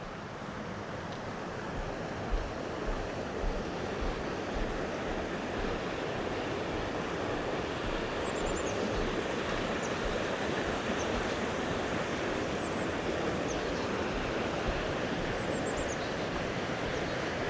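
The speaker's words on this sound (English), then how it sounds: "I'm gonna walk down here, check this river out." A rushing river in North Georgia, flowing through the Charlies Creek and Tallulah River area; a constant, dense roar of moving water that holds steady throughout, with faint high bird chirps now and then and no talking.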